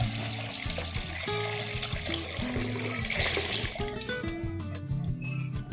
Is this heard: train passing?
no